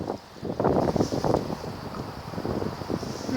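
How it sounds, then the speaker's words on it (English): Wind gusting at an outdoor rock site, buffeting the microphone in irregular rumbling bursts over a steady airy hiss. "Oh, the wind's about to get us."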